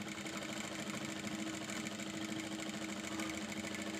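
A sewing machine stitches the seams of a fabric pencil pouch, giving off a continuous quiet mechanical hum and whir that holds steady for several seconds, close by and uninterrupted, with no talking.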